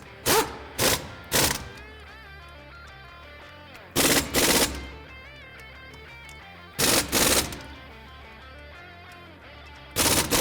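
An impact wrench fires rapid, loud bursts while tightening axle flange bolts with a 12mm 12-point socket on an F-150 prerunner. Four clusters of two or three sharp rattling bursts are separated by quiet pauses.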